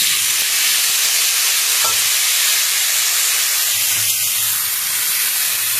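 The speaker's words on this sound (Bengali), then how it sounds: "আলুটা দিয়ে দেবো, আলুটা ভেজে নেবো।" Thinly sliced potatoes frying in a pan produce a loud, dense, hissing sizzle that stays close and constant throughout, with no talking.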